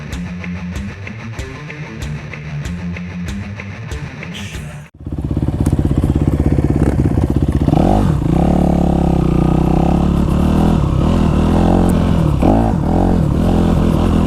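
A Honda CRF450 dirt bike engine roars loud and close while riding, with a steady high-revving drone and clattering after a brief idle at the start.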